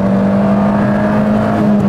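Peugeot 206 S16 with a naturally aspirated engine pulling hard, heard from inside the car as a loud, steady, humming drone that holds its pitch over two seconds.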